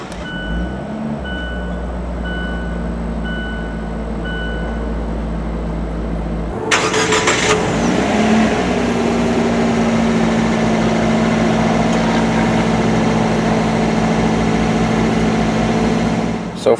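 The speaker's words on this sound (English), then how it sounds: "put your foot on the brake, and locate the engine start stop button" A 2017 Fiat 124 Spider Classica sits with a steady hum and intermittent electronic chimes, then the engine cranks and fires abruptly and settles into a smooth, steady idle for the rest of the stretch.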